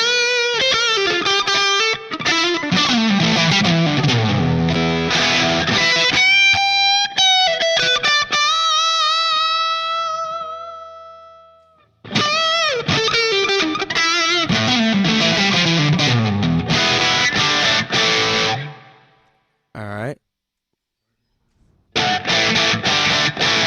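Distorted electric guitar through a Line 6 Pod HD500 Plexi Lead 100 bright amp model of a Marshall Super Lead 100, playing sustained chords and lead lines, loud and alone, with short silences toward the end.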